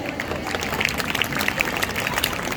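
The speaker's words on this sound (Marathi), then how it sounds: "त्यासाठी जोरात टाळ्या झाल्याच पाहिजेत" Applause for a students' song at a school science exhibition: a dense, continuous patter of many hands clapping from a crowd, steady and moderately loud for a couple of seconds.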